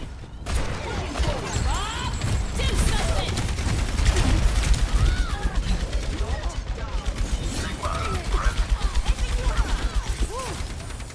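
Video game gunfire: rapid, dense bursts of shots rattle almost continuously over a busy game soundscape, loud and close.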